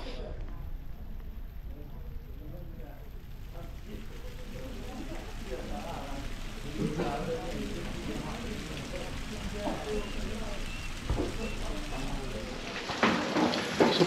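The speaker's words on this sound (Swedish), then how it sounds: "Så kom regnet. Det blev ingen luftballongsflygning nu. För det regnar." Rain falls steadily outdoors at a hot-air balloon site in Laos, a constant hiss of drops on surfaces, while people talk over it throughout.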